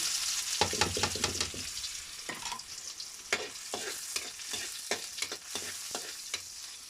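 Tilapia sautés in hot oil for sarsiado, a bright continuous sizzle punctuated by sharp scraping strokes of a spatula every second or so, close and moderately loud with no voices.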